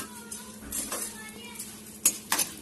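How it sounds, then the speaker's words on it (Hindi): Melon seeds roasting in ghee in a pan, giving off a soft continuous sizzle with metal spoon scrapes and a couple of sharp clinks against the pan near the end. "तो अब हम इसमें फिर से 2 चम्मच घी डालेंगे और डालेंगे हमारे खरबूजे के बीज"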